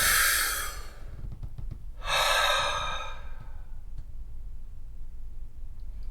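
Two deep breaths drawn in and let out slowly, close and unhurried, during a guided calming exercise for anxiety, with quiet pauses between them.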